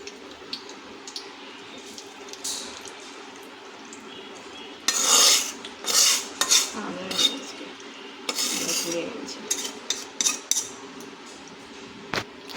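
Homemade ghee is strained from a kadai through a metal sieve, producing clinks, scrapes and knocks of the utensils against the pan and sieve in irregular bursts over a faint background, with no talking.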